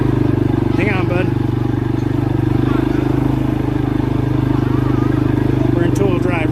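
A 2022 CForce 500 ATV climbing in two-wheel drive, a loud steady engine drone with rattling and clatter from the ride, close to the microphone throughout.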